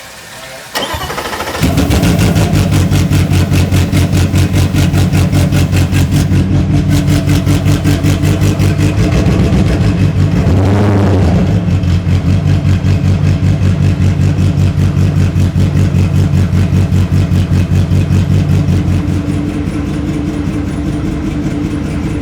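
A Mercury Racing 500R V8 marine engine fires up and runs loud and steady, rough and uneven as if missing on several cylinders, with a brief rev swell midway before easing slightly near the end.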